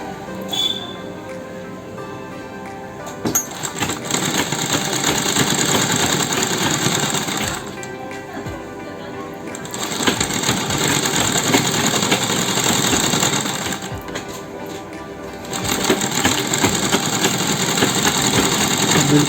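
A sewing machine runs in three long bursts separated by short pauses as it stitches a double piping border onto fabric, giving a steady, close mechanical whir.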